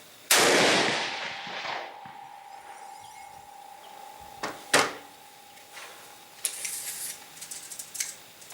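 A rifle shot fired through a muzzle brake during testing: one loud, sharp blast with a ringing tail, then quieter clicks, a couple of distinct knocks and some handling noise afterward.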